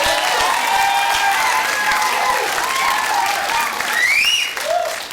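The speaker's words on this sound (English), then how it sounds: "Give them a round of applause" A studio audience claps and cheers for a dating-show couple, with loud, sustained applause and scattered whoops rising over it toward the end.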